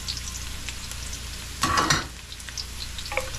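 Sarsiado stirred in a frying pan, a quiet continuous sizzle broken by a brief louder scrape and clatter of the spoon midway, close up.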